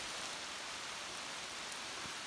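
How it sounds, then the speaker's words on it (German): Steady rain falls during a hike on the Malerweg trail, a constant soft hiss of drops on surfaces with no voices, heard fairly faintly throughout. "Und auch heute begleitet uns totales Regenwetter."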